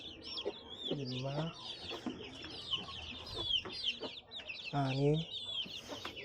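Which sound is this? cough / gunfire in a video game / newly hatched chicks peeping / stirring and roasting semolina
newly hatched chicks peeping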